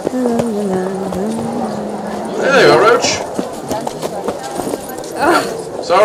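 Roach, a horse in The Witcher 3, trots with rhythmic hoof clops under game music and a voice talking, the hooves fairly faint behind the speech.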